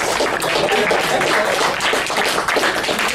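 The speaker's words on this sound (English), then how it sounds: "let's please give the audience members and the panelists a round of applause" Audience members applaud the panelists at a Left Forum panel discussion on art in the Occupy movement: a dense, continuous wash of many hands clapping at once, loud and sustained with little change, no voices rising above it.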